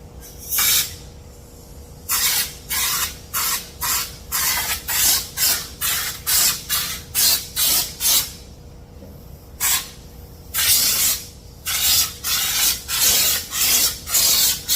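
Spray paint is applied to the fender guards of a 1954 GMC COE truck in a long series of short hissing bursts, each lasting about half a second. The bursts are close and loud, with brief pauses between groups.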